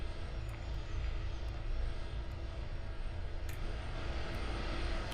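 Boeing 747 jet engines idle in a steady, full-bodied drone in the Roblox flight game Aeronautica while parked at an airport stand, a continuous broadband rumble with a faint high whine and no talk.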